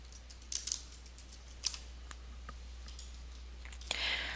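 Light typing on a computer keyboard while entering field names in a Microsoft Access database table, a few scattered soft key clicks with gaps between, quiet and close, ending in a brief burst of faster clatter.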